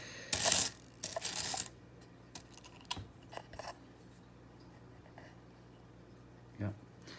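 Old foreign coins being sorted and dropped: a burst of jingling metal clatter at the start, then scattered single clinks and taps separated by quiet pauses, close and crisp.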